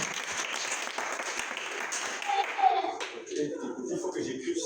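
A church congregation applauding in praise, a steady wash of many hands clapping with a voice or two calling out over it, fading toward the end.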